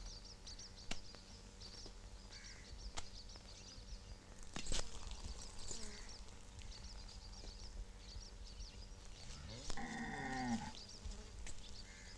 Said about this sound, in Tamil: கோட்டசாமிக்கு பெரிய கொம்பு, இது சின்ன கொம்பு இல்ல, ஆனா பெரிய மாடு.